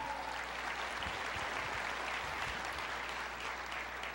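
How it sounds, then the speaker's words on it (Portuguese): Church congregation applause during a sermon: steady, dense clapping from a large crowd that holds at an even level throughout, with no speech over it. "Pode aplaudir o Senhor"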